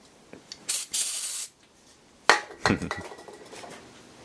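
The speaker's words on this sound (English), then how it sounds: "I use WD-40 for degreasing things or starting fires." A WD-40 spray can hissing degreaser in two short bursts, close and loud, followed by light metallic clinks and handling noises.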